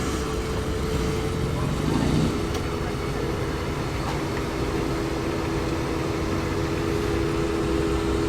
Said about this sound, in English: This is that supercharged Wolseley Hornet we've seen at Crew Heritage. It's got a Mercedes SLK supercharger under the bonnet of that one.